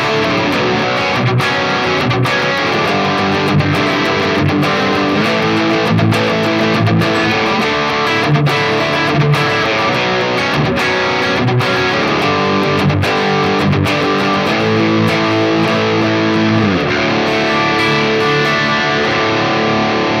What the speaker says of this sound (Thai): นี้นะครับเสียงแตกค่อนข้างละเอียดมาก